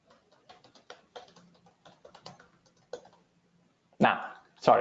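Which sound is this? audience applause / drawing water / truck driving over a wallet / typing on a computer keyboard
typing on a computer keyboard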